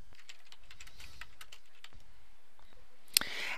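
Fingers tap out notes on a computer keyboard in a quiet room, a light irregular patter of keystrokes ending in a sharper louder click, close and alone with no speech.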